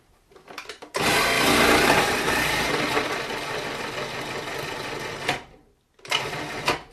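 An electric machine shreds vegetables for fermenting, giving a loud, continuous whirring grind that switches on abruptly, runs for several seconds, stops briefly, then starts again, close by.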